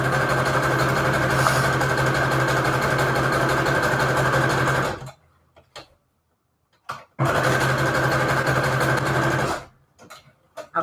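A sewing machine stitches all the way around a floral vintage-ad junk journal embellishment, running steadily for about five seconds, stopping briefly with a few small clicks, then running again in a second steady burst before stopping.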